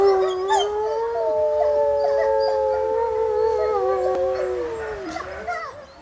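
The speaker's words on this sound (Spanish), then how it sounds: "esto que suena es el aullido de varios lobos" Several wolves howl together in long, overlapping, rising and falling tones, sustained and prominent throughout before fading at the end, with no talking over them.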